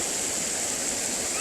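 Rushing water from a waterfall beside a hiking trail in the Hudson Valley, a steady broadband roar with no breaks, close and fairly loud throughout.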